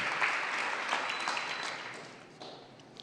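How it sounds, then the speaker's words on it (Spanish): A church congregation claps in a warm, continuous burst of applause that gradually thins and fades toward the end. "la iglesia más feliz les quiere recibir a todos ustedes con un caluroso aplauso de agradecimiento"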